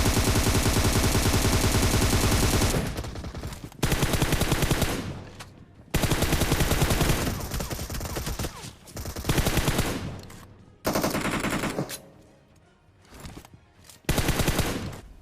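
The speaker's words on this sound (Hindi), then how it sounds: "M4 चलाया, M4 खाली हो गई।" Loud, rapid M4 assault rifle bursts from the mobile battle-royale game BGMI fire in several long volleys separated by short silences, close and dense.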